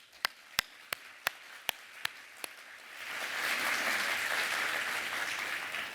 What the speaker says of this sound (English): a huge round of applause for Ellen and Eddie